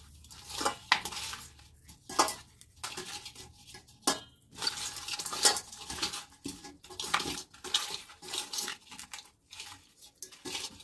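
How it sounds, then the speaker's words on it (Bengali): Hands mix tilapia pieces with salt and chili powder in a metal bowl, giving repeated wet squelches and light clinks against the bowl at a close, moderate level with no talk. "এবার সুন্দর করে এগুলো মেখে নেব।"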